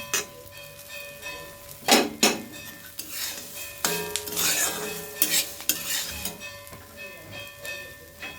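Puffed rice is stirred as it fries in a pan with a little oil, a metal spatula scraping and clanking irregularly against the pan over a soft sizzle, close and without talk.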